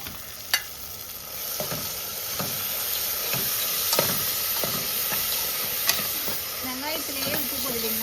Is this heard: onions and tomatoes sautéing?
yes